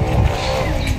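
A motorcycle with a broken, snapped exhaust pipe runs with a rough, raspy, unmuffled engine roar, loud and close in a brief burst.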